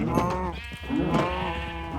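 Sheep in the video game Minecraft bleat repeatedly in close, loud, wavering cries, several calls overlapping one another without pause.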